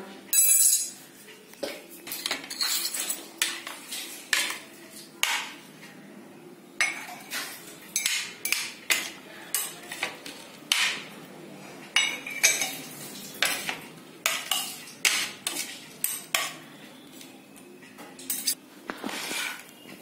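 Cut watermelon pieces dropped into a cup make a long run of sharp clinks and knocks of a utensil against a container, coming in irregular bursts, close and fairly loud, with no talking.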